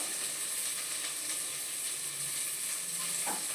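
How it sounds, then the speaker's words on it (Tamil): Onions sautéing in a pan for a chicken gravy, giving a steady, even sizzle and hiss throughout, with faint scraping of a spoon here and there and no voices. "வெங்காயம் ஓரளவு வதங்கிட்டு இருக்குது."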